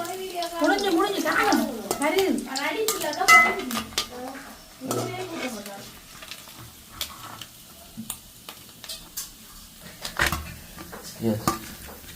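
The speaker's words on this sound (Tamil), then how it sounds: "அபியாட மீன் பொரியுது" Fish frying in a pan with steady crackling sizzle and occasional clinks of utensils, while people talk over it, the voices dominating the first half before the frying noise carries on more alone.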